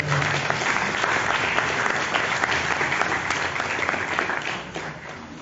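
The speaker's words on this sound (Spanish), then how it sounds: "a quien recibimos con fuertes aplausos" An audience at a literary tribute in Chimbote applauds warmly, a loud, sustained roar of clapping from a full room that fades a little toward the end.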